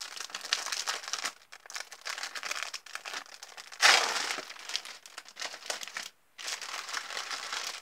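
Crinkly plastic wrapping on trading card samples is unwrapped close to the mic, giving steady rustling with a loud crackling burst partway through and a couple of brief pauses.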